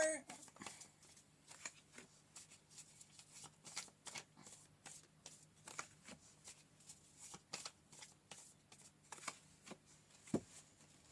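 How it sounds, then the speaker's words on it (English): Oracle and tarot cards are shuffled by hand in quick, crisp riffling flicks that run on through the whole stretch at close range, fairly soft, with faint talk mixed in. "we're going to pull a oracle card for you. And some tarot"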